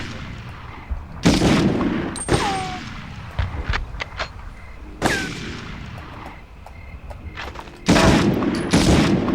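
Loud gunshots and booming blasts from a 1999 PlayStation 1 shooter where enemies' helmets get shot off come in separated bursts, with metallic pings and debris clatter between them.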